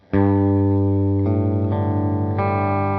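A Sterling CT50 electric guitar is strummed to check tuning, chords sustaining and ringing with a slight effect, then re-strummed twice at a steady pace.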